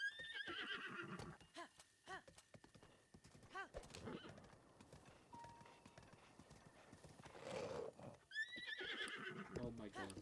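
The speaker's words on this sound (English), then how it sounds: "I absolutely despise the horses in this game." A horse in The Legend of Zelda: Breath of the Wild whinnies in several high, wavering neighs, with hooves clip-clopping in between, fairly quiet overall as a player's voice comments over the gameplay.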